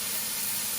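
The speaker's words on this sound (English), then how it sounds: "now I'm going to drop the marinated tofu in the pan. Listen to that sizzle." Marinated tofu for vegan bacon sizzles in a hot pan, a dense, steady, close hiss that fills the short moment with no voices over it.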